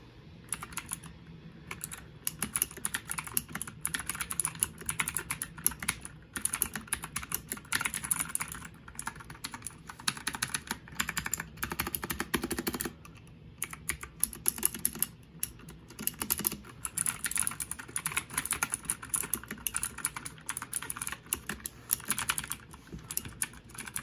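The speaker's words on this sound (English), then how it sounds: "this is the keyboard, and we're going to do a quick sound test for you" Typing on a DIERYA DK63 compact mechanical keyboard: rapid, crisp keystrokes in irregular bursts with brief pauses, close up and alone with no talking.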